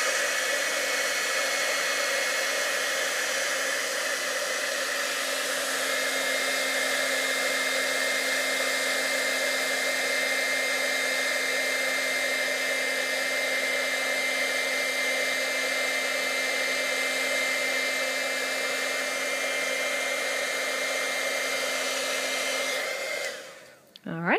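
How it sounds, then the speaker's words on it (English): A craft heat tool blows hot air on embossing powder on a Christmas ornament card. It makes a loud, steady whirring hum close by, unbroken for over twenty seconds before cutting off abruptly at the end. "We're going to need our heat tool, and we'll heat this up."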